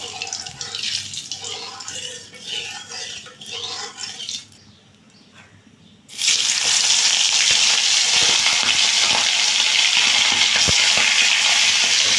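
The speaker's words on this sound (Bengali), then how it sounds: "তেলটা গরম হয়ে গেছে এবার মাছগুলো দিয়ে দেবো" Hilsa fish heads hit hot oil in a wok: a quieter stretch of kitchen noise, a brief near-silence, then a sudden loud, steady hiss and crackle of frying that carries on to the end.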